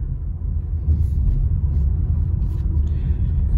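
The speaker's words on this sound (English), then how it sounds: "So you guys can clearly hear the road sound and the engine sound." Steady low road rumble and engine hum inside a 2020 Honda City on a night drive, continuous and moderately loud throughout with no talk.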